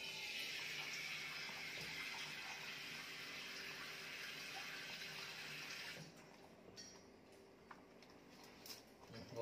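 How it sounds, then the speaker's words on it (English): Water runs from a tap in a steady, hissing stream, fairly faint and alone. It cuts off about two-thirds of the way through, leaving quiet room sounds and a few small clicks. "Water."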